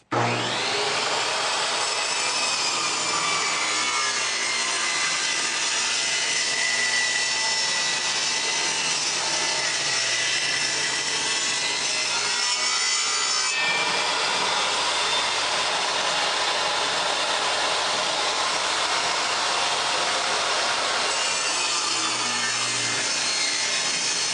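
A saw cuts the tongue side off a wood board in one continuous, loud, steady whine lasting over twenty seconds, with a slight change in tone partway through and no voices.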